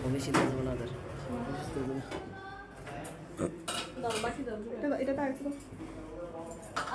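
Dishes and cutlery clink and clatter as food from a one-dish party is served out to classmates, with scattered metallic knocks and scrapes under nearby chatter.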